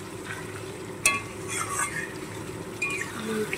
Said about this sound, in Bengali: এবার সুন্দর করে নেড়ে চেড়ে কষিয়ে নেব